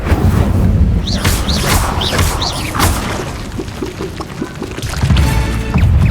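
The Incendio fire spell is cast in Hogwarts Legacy with a loud whooshing burst of flame and heavy rumbling impacts. Brief whistling swoops cut through, and the roar fades before surging again near the end.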